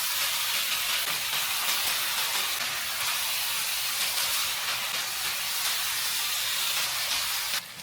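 Kimchi pork with green onion stir-fries in a pan, sizzling and hissing in a dense, steady crackle that stays loud and close, with no talking.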